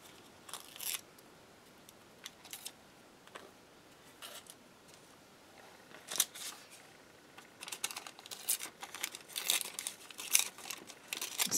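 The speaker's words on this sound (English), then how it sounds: "So we're going to tear the edges here." Paper art having its edges torn by hand, with quiet, scattered rips and crinkles in short bursts that grow busier toward the end, heard close up in a quiet room.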